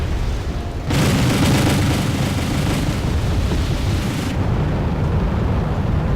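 Continuous loud rumbling barrage of booming cannon fire and explosions in the video game Wargame: European Escalation, including Vulcan cannons, dense and sustained with no pauses, over a roaring low-end.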